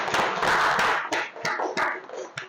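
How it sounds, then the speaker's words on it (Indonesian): A small audience at a book launch gives short applause for a doctor. Close, uneven hand claps build into a brief burst, then break into a few separate claps and taps before stopping. "Mohon aplaus untuk Ibu Dr."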